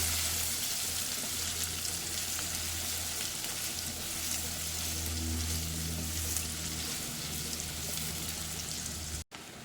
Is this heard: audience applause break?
no